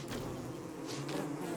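A dense swarm of bees buzzes steadily and loudly in Don't Starve, a continuous droning hum with slight wavering, no talking over it.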